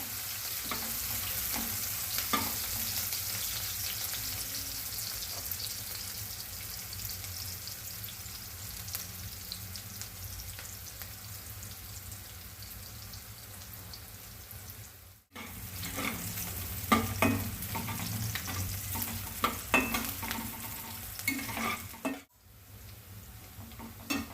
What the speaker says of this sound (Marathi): कांदा चांगला तळून घ्यायचा.